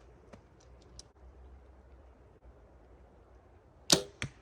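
An arrow released from a Bear Paradigm compound bow gives a sharp snap followed moments later by a second crisp thump, both fairly close, after a few faint ticks over quiet background.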